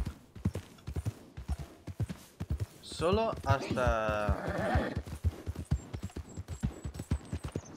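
Horse hooves clip-clop in a steady rhythm through a Wild West roleplay scene in the video game RedM, with a brief whinny midway and someone speaking over it.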